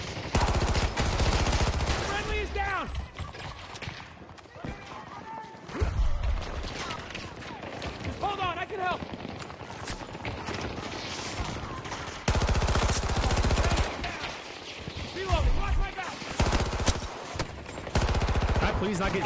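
Battlefield 2042 gunfire: rapid bursts of shots and explosions run loud and dense throughout, mixed with game effects and someone talking over the action.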